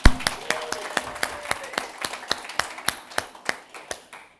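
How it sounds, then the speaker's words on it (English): A small audience at a medical conference session claps for Mark, sparse individual claps in an uneven rhythm that thin out and stop near the end. "So can we give Mark a quick round of applause?"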